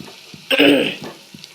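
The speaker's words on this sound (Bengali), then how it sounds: "এই যে পকোড়াগুলো ভাজা হয়ে গেছে এবার তুলে নেবো একটা একটা করে" Pakoras fry in hot oil, heard as one short, close burst of sizzling that fades within a fraction of a second, then a few faint clicks.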